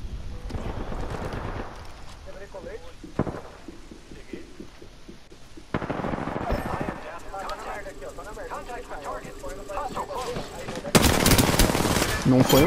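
Bursts of video game gunfire, some rapid like a machine gun, mixed with voices talking over the action and busy game sounds.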